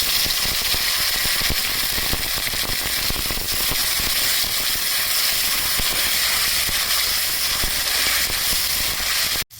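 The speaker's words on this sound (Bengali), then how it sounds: "আমি সামান্য পাঁচফোড়ন দিয়ে টমেটোটা ভেজে নেব।" Tomato frying in oil with a pinch of panch phoron spices, giving a dense, loud, continuous sizzle and crackle up close that runs unbroken to the end.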